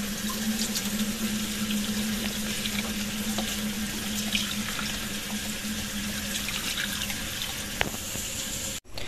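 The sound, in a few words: water added to pot for cooking pork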